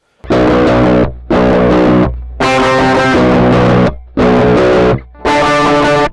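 Aklot multiscale 7-string electric guitar played through a distortion effect with all knobs at midpoint: loud, saturated chords in five sustained bursts separated by brief gaps of silence.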